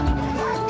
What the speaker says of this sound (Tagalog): Dog yan,